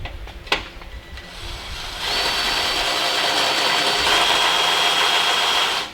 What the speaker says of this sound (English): So I just put my drill in on the low speed.